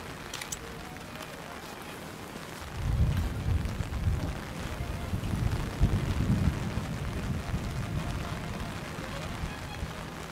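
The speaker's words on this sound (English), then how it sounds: "Man, it's really raining." Heavy rain in the video game Splinter Cell: Chaos Theory sweeps in after a quiet start, becoming a dense rumbling downpour that holds steady and fairly soft to the end.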